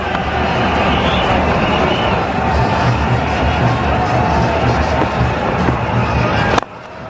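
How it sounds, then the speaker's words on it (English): A very large crowd at the 2010 Asia Cup final cricket match roars and cheers continuously, a dense wall of sound that ends abruptly. "Every run now being cheered by a very large crowd here."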